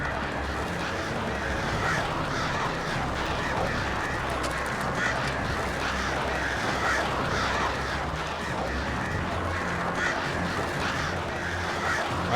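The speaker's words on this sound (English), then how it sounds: "I have to defeat the birds." Birds attacking in the video game Alan Wake Remastered, a dense, continuous flurry of cawing and squawking calls under steady game noise, loud and sustained throughout with no talk.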